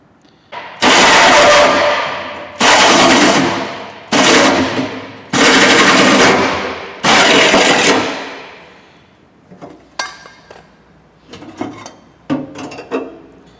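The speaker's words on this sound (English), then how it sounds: "we'll drill a hole in it." Several long bursts of loud, rough power-drill drilling grinding through a metal fuel tank, each lasting a second or more, followed by scattered clunks and handling noises.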